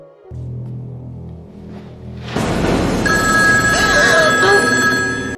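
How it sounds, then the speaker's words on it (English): A telephone rings in an X-Files episode with a bright repeating electronic tone, loud and close, following a low droning passage. "A phone call from Mulder wakes Scully from a terrifying nightmare"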